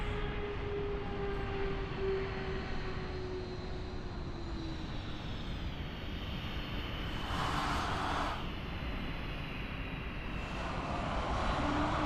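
An Embraer jet in Microsoft Flight Simulator 2020 comes in to land at Dublin Airport, a steady broad engine roar with a faint whine, continuous and moderately distant, with no voices.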